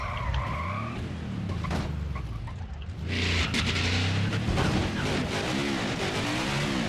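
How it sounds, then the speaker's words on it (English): A NASCAR stock car in a racing video game doing a burnout, with sustained screeching tire squeal and skidding over a roaring engine, a brief dip in the middle before the squeal returns louder, no talk. "Now we head to the final part of this burnout."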